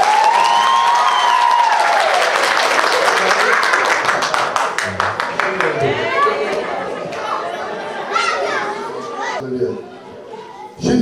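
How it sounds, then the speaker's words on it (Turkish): Crowd at an outdoor baptism ceremony in Duisburg bursting into loud clapping and cheering for several seconds that thins into scattered claps, with lively chatter and children's voices throughout. "Alkış iyi olmaz, bir daha yapalım."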